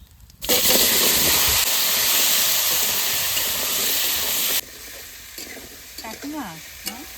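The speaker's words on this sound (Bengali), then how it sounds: "এবার সবজিগুলো দিয়ে দেবো" Vegetables hit hot mustard oil left from frying fish, already tempered with cumin and bay leaf, bursting into a loud, steady sizzle for about four seconds before dropping to a softer fry with faint stirring scrapes.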